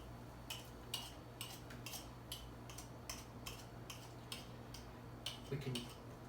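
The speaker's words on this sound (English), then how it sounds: "Just let me grab a knife here. Just cut her edge off a bit." A knife trims the edge off homemade pie crust dough, giving a quiet, fairly regular series of light taps and clicks against the board, close and faint.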